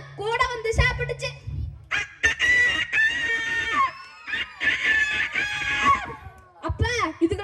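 A human voice mimics a rooster's crow with several rising and falling calls, interrupted by brief pauses.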